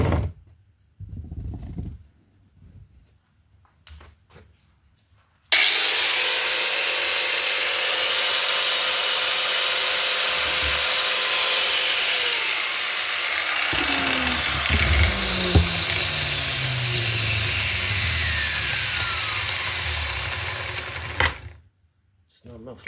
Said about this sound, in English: we'll cut the last brace